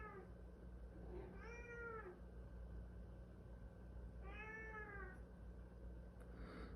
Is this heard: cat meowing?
yes